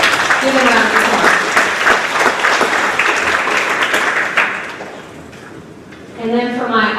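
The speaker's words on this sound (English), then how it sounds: "a round of applause." Audience applause at a grades 4–6 school awards ceremony, loud sustained clapping from a crowd for over four seconds that thins out, then a voice speaks over the last of it.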